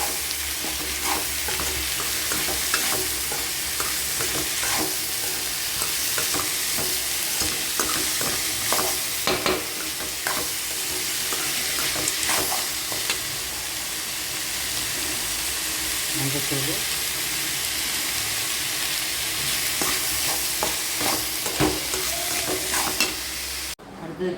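Tomato and capsicum stir-fried in a pan, a steady close sizzle broken by frequent scraping stirs, with faint voices in the background.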